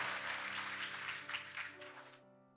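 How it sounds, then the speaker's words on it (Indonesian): A church congregation at a GSJS Church sermon service claps during a sermon. The soft, fairly quiet applause rides over sustained background music, then the clapping thins and fades out near the end. "Kasih tepuk tangan dulu yang paling meriah buat itu"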